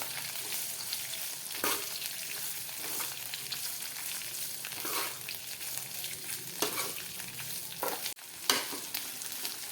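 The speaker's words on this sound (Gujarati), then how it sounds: "હવે આપણે કોબીને સારી રીતે મિક્સ કરી દઈશું" Shredded cabbage and chillies are stir-fried in a hot pan, giving a continuous loud sizzle with repeated scraping strokes of the spoon roughly every second or so, up close.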